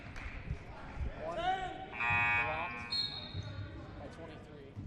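During a men's college basketball game, Benedictine versus MSOE, a loud electronic buzzer sounds for substitutions in the arena, a sustained tone lasting around a second, under an announcer's commentary and crowd murmur.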